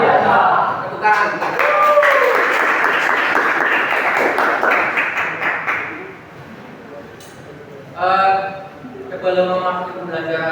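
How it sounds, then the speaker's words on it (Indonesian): Students in an electrical and electronics engineering class clapping together, a loud burst of applause lasting several seconds before fading, with a voice speaking briefly afterward. "Tepuk tangan."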